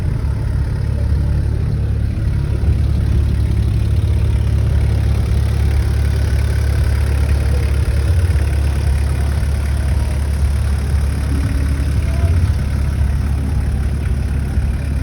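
A left-hand-drive VW Golf Mk1 diesel, a South African-built limited edition, idles steadily at close range: a low, even, knocking rumble that holds constant throughout, with no talk.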